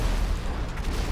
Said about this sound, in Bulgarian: Където са експлозиите най-вероятно.